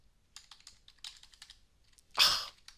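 Keys clatter on a computer keyboard in irregular bursts of light taps, ending in a louder, sharper clack near the end; close and fairly quiet, no talking.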